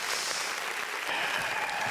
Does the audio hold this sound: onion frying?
no